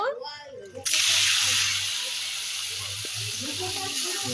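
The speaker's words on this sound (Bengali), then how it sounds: "তেল গরম হয়ে গেছে এবার আমি মাছগুলো ভেজে নেব" Small mourola fish, rubbed with salt and turmeric, drop into hot oil and set off a sudden loud sizzle that settles into a steady frying hiss. A voice is heard briefly just before the sizzle starts.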